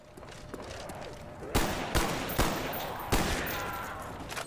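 Gunfire in Call of Duty Black Ops 1, with several sharp, loud shots in an uneven burst over a background of continuous game noise.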